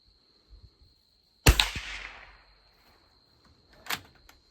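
A single sharp, close .22 LR rifle shot from a Soviet Toz 8M firing Federal Ultra Match ammunition outdoors, with a decaying tail, followed by a fainter click of the bolt or handling.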